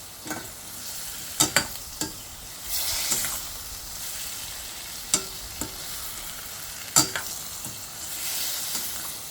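Chinese potatoes (koorka) sizzle steadily while frying in a pan, with a spatula scraping and clacking against the pan in several sharp stirs over the hiss.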